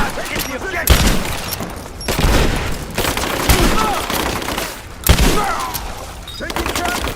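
Bursts of gunfire erupt in a Rise of the Tomb Raider firefight: rapid volleys and heavy booms come in loud waves with short lulls between them, and shouted voices are mixed in.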